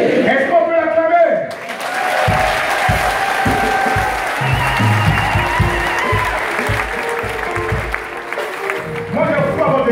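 A church congregation claps and cheers loudly for a long, steady stretch at a French-language deliverance service, with dense overlapping applause and shouting voices.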